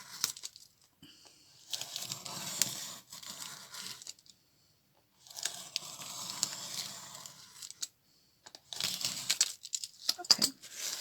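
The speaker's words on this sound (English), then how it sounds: "I put my template above all these papers and then cut them with my craft knife" Craft knife slicing through a stack of papers beneath a template, heard as scratchy, rasping cutting strokes in three bursts separated by quiet pauses, close by.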